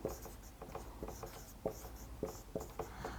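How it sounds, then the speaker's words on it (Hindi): Chalk or marker writing on a board during a chemistry lesson on solid-state unit cells: quick scratchy strokes in an uneven rhythm, close and fairly quiet, with no talking over them. "तो लिख देती हूँ मैं यहाँ पर"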